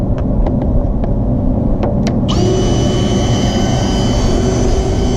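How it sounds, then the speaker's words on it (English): A cordless battery drill with a mixing paddle stirs Dingo Expanda-Crete concrete alternative in a bucket, a loud steady whine that kicks in partway through after some light clicks and knocks, over constant low rumble. "we're going to give it a stir up with the battery drill"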